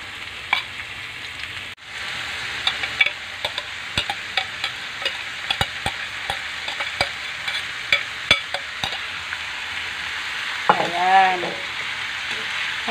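Sliced chayote fries in a pan after onions, a continuous sizzle broken by regular sharp clacks of a utensil stirring against the pan, near and fairly loud.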